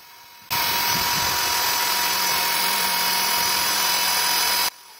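A Wondercut drilling machine runs a 4 mm bit into iron, giving a loud, steady broadband whine and grind that starts abruptly, holds for about four seconds and then cuts off.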